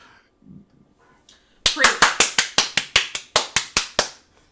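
Handclapping from a podcast host, a run of about fourteen loud, close, sharp claps in quick rhythm after a few seconds of near quiet with faint sounds.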